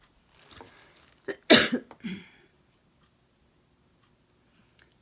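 A single person's cough, a short close burst followed by a couple of smaller throat sounds, heard alone in a quiet room during a home craft session painting a bunny.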